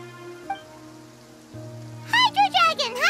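Steady rain falls in the Genshin Impact game world, a soft continuous patter that runs beneath a held musical tone, with a higher creaking, wailing cry breaking in near the end.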